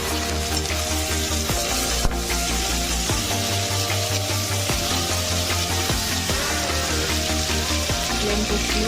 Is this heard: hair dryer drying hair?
no